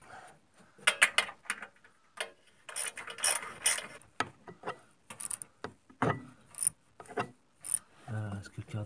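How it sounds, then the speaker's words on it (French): A 10 mm ratchet wrench clicks in repeated bursts as it tightens the catalytic converter bolts to the turbo on a Saab 9-3 NG with the B207 engine, the close ratcheting broken by short pauses and handling noises. "Donc je sers ça à la clé, clé à cliquet de 10."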